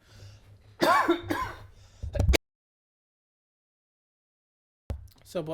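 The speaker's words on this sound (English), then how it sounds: "Just had to cough." Two or three harsh coughs close to the microphone, then abrupt silence before a short sound resumes at the end.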